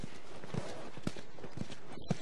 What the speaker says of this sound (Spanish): Tenemos caballos ya.